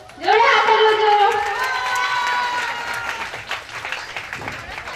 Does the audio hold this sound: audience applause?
yes